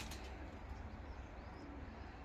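Pigeons at a Kars coop of white tumbler pigeons coo faintly and softly over a steady hiss of outdoor background noise, with no one speaking.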